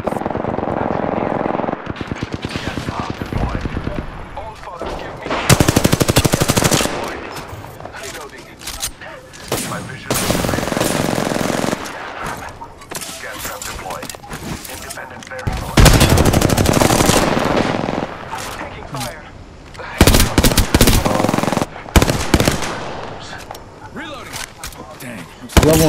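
Heavy automatic gunfire in a video game comes in repeated loud volleys with brief pauses, and a voice talks between the bursts.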